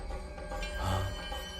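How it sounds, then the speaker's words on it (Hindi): A telephone rings in a quiet indoor scene, a single steady electronic ring tone lasting a moment at moderate loudness with no talk over it. "ये ओमना बाथरूम में से फोन कर रहा है"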